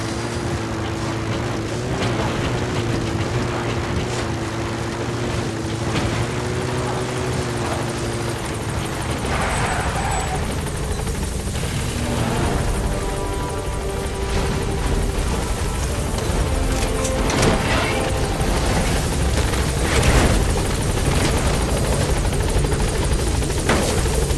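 A video-game support helicopter's rotor thumps and turbine whine fill the scene steadily and loudly, the engine tone shifting as it hovers close by at a landing zone.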